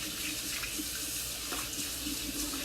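Steady water pours from a kitchen tap into a sink during washing up while cooking duck breast and gnocchi, a continuous soft rushing hiss with no voices.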